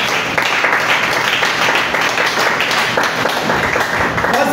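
Church congregation applauding during a sermon, a dense sustained round of clapping with faint voices mixed in, steady and fairly loud throughout.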